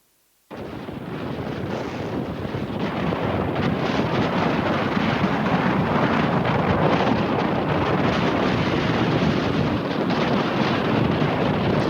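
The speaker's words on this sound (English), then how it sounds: "So I want to show to you the kind of wind which I get when I'm doing my ride." Strong, steady wind roaring and buffeting a microphone while riding a motorbike in Patagonia, a loud continuous rush that starts abruptly and holds for the whole stretch, with no voices.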